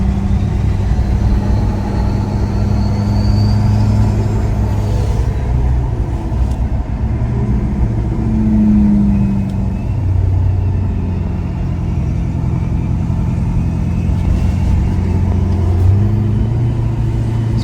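A 2018 Ford F350 diesel pickup with compound turbos accelerates in third gear at lower speed, its loud, steady engine drone rising and falling through the whole stretch, with turbo whine above the rumble and no one talking.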